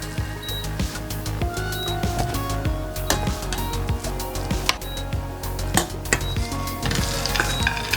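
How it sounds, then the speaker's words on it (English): Nuts sautéing in a pan for Lebanese hashweh rice stuffing give a steady, close sizzle and frying crackle, with clinks and scrapes of stirring against the pan throughout; no voices. "Saute nuts with this hashweh"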